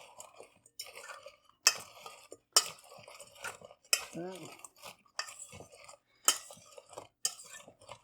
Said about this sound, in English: all we're going to do is just give them a toss in the liquid, in the sauce here, in the glaze